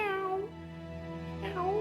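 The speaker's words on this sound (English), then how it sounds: "The cat meowed at me once." A cat meows twice in the visual novel The Hungry Lamb, two clear, close, rising-and-falling mews separated by a short pause over a faint hum.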